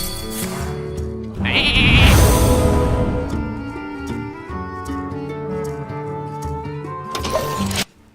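A sheep in the Hearthstone video game, Naxxramas Military Quarter, gives a loud, close bleat lasting over a second, set against layered game music and effect sounds, with a short sharp effect near the end.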